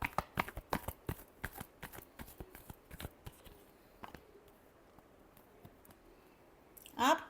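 Tarot cards are shuffled by hand in quick crisp clicks and soft riffles, quiet and close, ending in a brief louder rustle.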